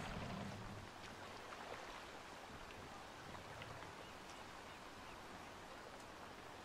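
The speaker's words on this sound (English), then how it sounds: "looking at the rain effects" Rain effects in the video game Assassin's Creed Valhalla, a faint, steady wash of falling rain and pattering drops, continuous and even throughout with no voices.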